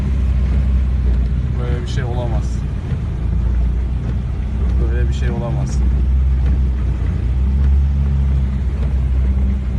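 A car pushes through deep floodwater in the Karabağlar industrial area, its low engine rumble and water churn constant beneath people talking inside the vehicle.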